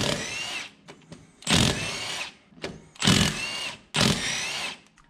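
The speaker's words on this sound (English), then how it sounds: "So what I'm gonna do is just remove the four bolts." A power tool, likely an impact gun or drill, removes four bolts from a wheel hub on a steering knuckle during a Subaru BRZ/Toyota GT86 angle kit install; four loud whirring bursts, each about a second long, with brief pauses between.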